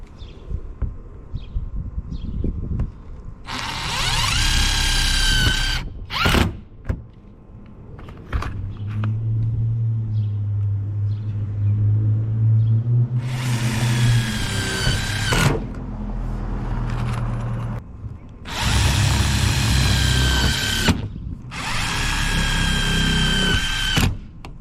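A Black & Decker drill driving screws while installing a MaxxAir vent fan in a van roof, several loud whirring bursts of a few seconds each separated by pauses, with clunks and handling noises in between.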